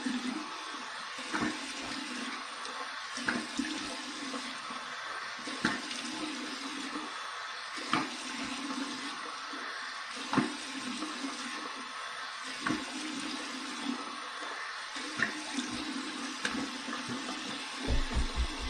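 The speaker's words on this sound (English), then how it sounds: "Cold water rinse." A bathroom tap runs continuously for a cold rinse after wet shaving, a steady hissing splash of water at moderate level with small clicks and knocks, no one speaking.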